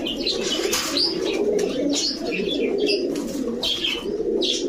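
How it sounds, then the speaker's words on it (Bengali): Pakistani Babra pigeons coo in soft low throaty murmurs, overlapping with scattered higher chirps from other birds, steady and fairly close. "পাকিস্তানি বাবরা কবুতর"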